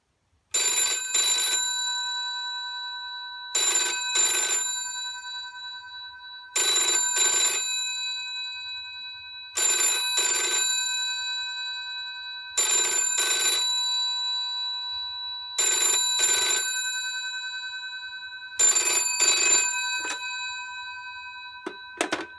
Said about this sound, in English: I'll give you a ringing demonstration so you can hear the ringer